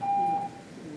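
A public comment timer buzzer at a county commission meeting sounds a single steady electronic tone for about half a second, clear and fairly loud over a quiet room, then stops.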